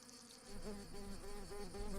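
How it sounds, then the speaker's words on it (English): Worker wasps buzz as they leave their colony, a close, wavering drone that swells after a quiet start and holds steady with a pulsing pitch. "worker wasps head out from the colony"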